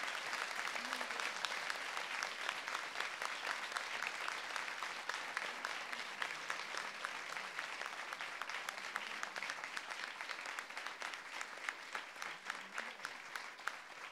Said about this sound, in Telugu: చప్పట్లు ఇంకా గట్టిగా మారు మోగాలి మారు మోగాలి